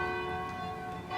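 A single church bell tone from a bell tower in the historic centre of Paranaguá, Brazil, hangs and rings out with rich sustained overtones, fading slowly over about a second.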